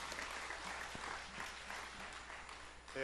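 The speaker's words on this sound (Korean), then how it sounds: "열강을 해주신 우리 강두성 목사님께 다시 한번 박수로 감사의 말씀." A seminar audience at a church gives a soft, steady round of applause in thanks to a pastor after his lecture, fairly faint and distant, with a louder noise at the very end.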